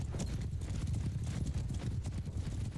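Horses of mounted riders and horse archers gallop in a Mount & Blade II: Bannerlord battle, a dense, continuous clatter of hooves at close range, with a faint neigh.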